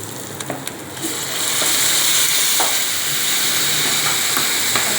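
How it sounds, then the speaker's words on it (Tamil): Onions sizzle and hiss steadily in a hot pan while being sautéed for a Tamil roasted brinjal dish, loud and close, with a few clinks of stirring at the start. "வெங்காயம் வதங்கிடுச்சு."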